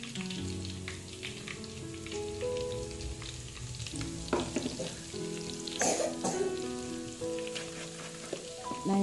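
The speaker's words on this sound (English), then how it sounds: "Nafanya kama tobo hapo katikati kwa ajili ya kuweka pilau masala yangu ili ichemke kwenye mafuta." Pilau masala spices fry in hot oil in a cooking pot, making a continuous soft sizzle and crackle. Steady tonal background music plays over it.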